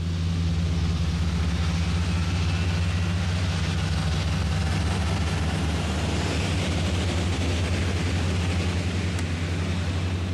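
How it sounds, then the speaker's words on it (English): The jet engines of an Airbus A380 run during ground testing, a loud, steady roar with a deep low drone that continues unbroken throughout. "And that'll start engine number 4."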